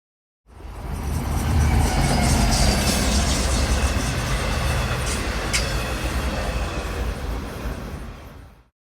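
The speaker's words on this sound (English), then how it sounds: "This is the train to Babylon, stopping at Woodside," A Long Island Rail Road commuter train at a station gives a loud, steady rumble of rolling cars for about eight seconds, with a brief high squeal midway and no talking.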